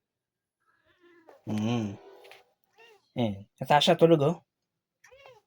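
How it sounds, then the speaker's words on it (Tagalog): A pet cat gives a couple of clear meows at close range, mixed with a person talking softly in a home at night. "Ito ang aming pusa."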